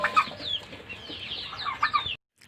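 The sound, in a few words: local chickens clucking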